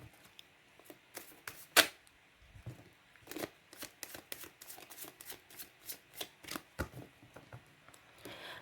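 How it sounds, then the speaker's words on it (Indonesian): Tarot cards being shuffled by hand, a run of crisp riffling snaps and soft papery flicks in an irregular rhythm with one sharper loud clack early on, close and quiet overall. "saya kocok kartunya"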